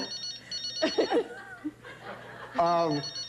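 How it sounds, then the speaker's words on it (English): A telephone ringing indoors in a talk-show setting, a burst of repeated electronic ring tones near the end, with people talking and chuckling over it. "Dude, you got a phone ringing."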